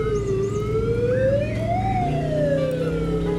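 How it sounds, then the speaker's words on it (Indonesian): Ambulance siren wailing loud and close, its tone sweeping smoothly up and down over a steady low engine rumble, no voices. "Tuh Vina lagi dibawa di ambulans"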